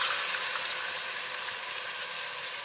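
Ginger garlic paste fries in a pan with a steady, bright sizzle and crackle that runs unbroken at close range, no voices over it.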